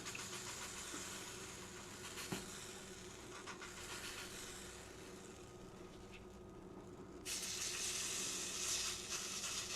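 A homemade tortilla cooking in a hot pan gives a steady, moderate sizzle that continues without a break, with a broad hiss that grows a little louder near the end and no talking.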